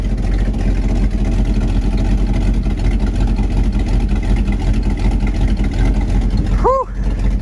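A 1987 Chevy Silverado truck engine idles steadily and loud at close range after sitting for six years, a continuous low rumble throughout with a brief high whistle-like chirp near the end.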